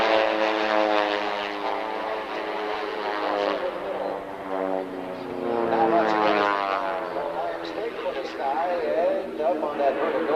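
Propeller aerobatic airplanes roar through a half Cuban 8 at the 1992 California International Airshow in Salinas, a steady droning engine swelling and fading over about ten seconds beneath continuous commentary from an announcer.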